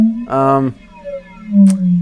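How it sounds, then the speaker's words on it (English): A Spectre modulation pedal produces whale-like tones: a loud harmonic swell, then lower gliding, sliding pitches that moan and bend, close and alone. "So this is the whale sounds you can get from the pedal."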